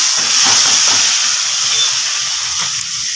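Chopped onion hitting hot oil in a home kitchen pan while cooking chicken, a loud, bright sizzling hiss that flares at the start and keeps spitting steadily throughout, with faint background clatter.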